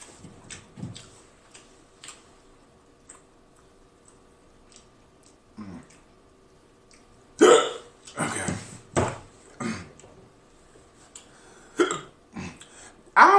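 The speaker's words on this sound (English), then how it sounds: "I don't feel like I've been having hiccups for the past few days." Hiccups from a person during a seafood mukbang of fried catfish and shrimp, a series of short, sharp bursts spaced irregularly, some faint and some louder, mostly alone with little talk.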